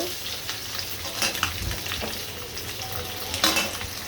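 Eggs frying in a wok produce a soft, steady sizzle with several scraping spatula strokes and light clinks, quiet and close, without any speech.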